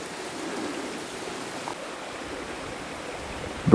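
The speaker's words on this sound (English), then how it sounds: "Right now the trail is a little bit of a brook." Water runs steadily down a rocky hiking trail on Mt. Mansfield, turning it into a small brook on a humid day in the clouds; a close, continuous rushing wash without pauses.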